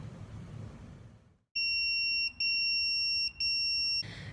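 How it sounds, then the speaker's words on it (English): Loud electronic pager in a hospital beeping in three long steady tones with short gaps, clear and close after a quiet room. "Just got paged to clarify an order."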